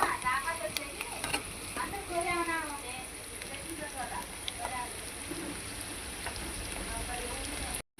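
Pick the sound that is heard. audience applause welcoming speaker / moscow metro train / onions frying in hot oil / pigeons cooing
onions frying in hot oil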